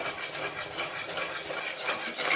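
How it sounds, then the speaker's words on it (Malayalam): Homemade tomato sauce thickening in a pan is stirred steadily, a close continuous scraping and rubbing with no voices. "കൈ ഇടാതെ തന്നെ നന്നായിട്ട് ഇളക്കി കൊടുക്കുക."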